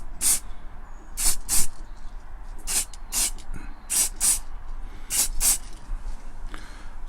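Gloss white spray paint hisses onto a part of a restored Corgi 231 Triumph Herald diecast model car in about a dozen short, close bursts, some in quick pairs, with quiet gaps between them.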